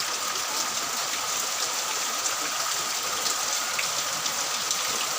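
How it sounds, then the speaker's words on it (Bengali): Steady rain pours down, a dense even hiss of drops hitting surfaces, moderately loud and continuous with no voices. "কি সুন্দর বৃষ্টি পড়তেছে"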